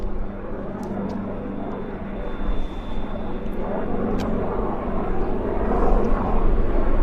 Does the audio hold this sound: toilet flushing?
no